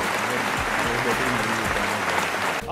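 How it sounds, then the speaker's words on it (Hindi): A room full of people applauds, steady dense clapping that holds for a few seconds and then begins to fade. "अपने लिए तालियां बजा दें।"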